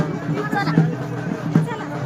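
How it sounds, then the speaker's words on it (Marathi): Crowd at a Hindu temple: a murmur of many voices and bustle fills the background, with a nearby voice talking over it for a couple of seconds. "गर्दी दाखवतो. गर्दी किती."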